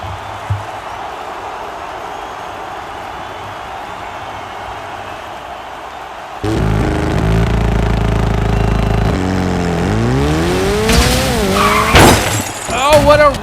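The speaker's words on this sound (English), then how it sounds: "What a wreck!" Two 1:36 scale pull-back toy cars, a McLaren 720S and an Apollo, racing and crashing, with a rising whirring rush, then sharp clattering impacts and squealing near the end, under lively excited talk.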